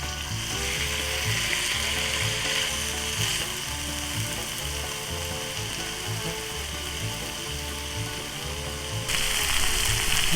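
Steady, loud sizzling with bursts of popping from food frying in a pan, close up, with a rhythmic clicking pattern underneath.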